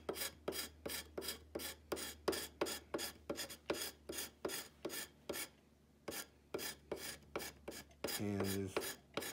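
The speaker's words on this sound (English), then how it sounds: "we'll use our scraper or our chisel, made to look like a scraper, and just scrape off the part that's black." Steel chisel ground to act as a scraper rasps the black finish off a swivel breech rifle kit part, a steady run of about twenty close, even scraping strokes with a brief pause near the end.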